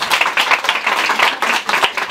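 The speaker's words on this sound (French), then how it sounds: "on peut l'applaudir." An audience claps for a guest at a building inauguration, a steady, close, dense round of applause with rapid sharp claps and no talk over it.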